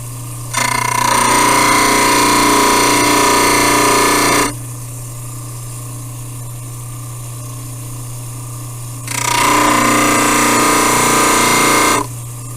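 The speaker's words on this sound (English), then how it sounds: "So I'm going to start my grinder back" A grinder trimming dental bleach trays runs in two loud, steady whirring bursts of about four and three seconds, separated by a quieter pause with a low hum.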